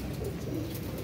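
Pigeons coo at a household pigeon loft, a soft low continuous burbling, brief and moderately close over faint background noise.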